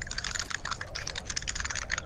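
Rapid clicking of buttons on a keyboard or game controller during Fortnite play, a dense, close run of sharp taps with no pauses.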